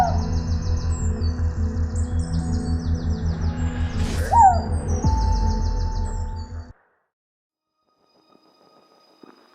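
A small scops owl calls in a steady run of repeated low hoots, with higher chirps over them, then it cuts off into near silence.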